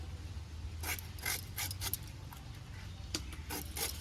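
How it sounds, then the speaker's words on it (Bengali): Raw jackfruit being cut by hand with a knife, the blade wetted with water instead of oil, gives repeated close rasping, rubbing strokes in uneven bursts over a low background hum, with no talking. "অনেকে তেল দিয়ে কাটে আমি তেল দিই নাই আমি জল দিয়েই কাটছি"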